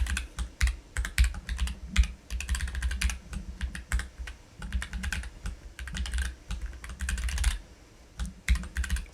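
Fast, uneven typing on a computer keyboard while writing a Python function, with dense bursts of key clacks and brief pauses between runs of keystrokes, close and clear with no talking.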